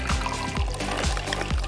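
Water pouring into a rubber balloon from a tap or container, a steady gurgling stream with rhythmic glugs, close and continuous with no talking.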